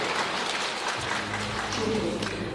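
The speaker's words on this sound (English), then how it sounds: "So warm applause to Madame Tang." An audience at an international ocean governance conference applauds warmly, a soft, even wash of clapping heard from a distance in the hall.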